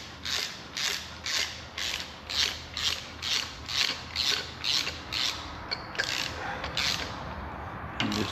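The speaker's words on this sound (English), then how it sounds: "Rethread the cap." Cap being rethreaded and tightened by hand on a part of a 2013-2014 Ford F-150 3.5 EcoBoost engine during a build, giving a steady run of rhythmic ratcheting clicks, about a dozen close quick bursts, with no talking.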